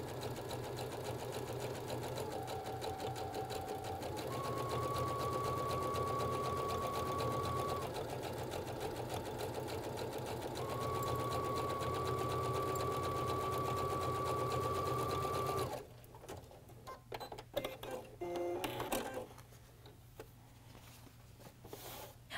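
A Baby Lock sewing machine with a creative foot stitches cording onto fabric in a steady, loud mechanical whir with a faint tonal hum, then stops abruptly and is followed by quieter clicks and handling.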